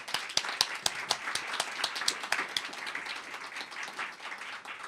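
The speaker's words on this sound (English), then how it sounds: "how about a round of applause for these two also" Audience at the National Press Club applauds, sharp individual claps standing out within a loose, moderately sized round of clapping that thins slightly toward the end.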